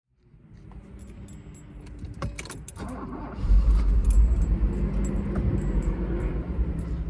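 A 1987 Mercedes-Benz 560 SL V8 starts up after keys jingle in the ignition, a brief crank then a loud, close, steady idle rumble.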